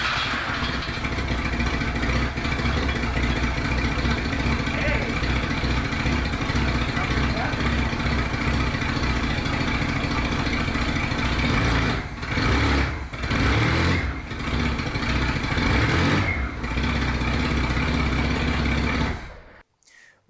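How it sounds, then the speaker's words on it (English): A rebuilt Chevy S-10 Squarebody truck engine runs roughly with a loud, steady, buzzy drone for most of the clip, briefly stuttering before it cuts out near the end. "That is a running truck. A terribly running truck."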